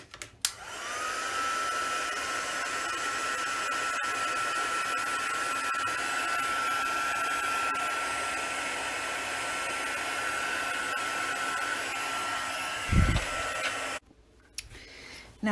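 Hair dryer drying a scrapbook craft layer, a steady loud whirring blow running continuously for about thirteen seconds before switching off, with a brief thump near the end.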